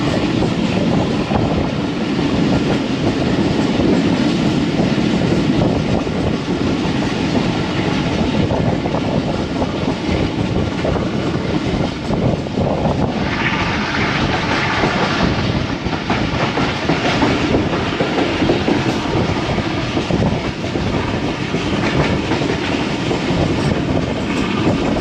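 ZCU diesel locomotive hauling the 9UP Allama Iqbal Express from Karachi to Raiwind, roaring steadily along the rails with rhythmic clickety-clack of wheels and a loud, continuous rumble throughout.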